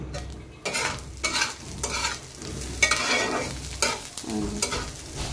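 Fish sizzles in hot oil in a pan, with a continuous crackling fry broken by repeated louder bursts as pieces are turned or shifted, close by and with no talking.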